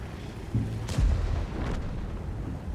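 A tank cannon fires in World of Tanks, one deep booming shot with a heavy low rumble and a rolling tail, heard under continuous game background noise.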